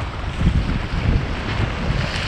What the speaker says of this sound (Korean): 하필 또 도착하니까 바람이 점점 강해지네요